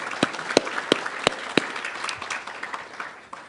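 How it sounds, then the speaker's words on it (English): Audience applause for a graduating senior at a 2021 ceremony honoring Native American graduates, a dense patter of claps with a few sharp, loud individual claps standing out, fading slightly toward the end. "Let's give a round of applause."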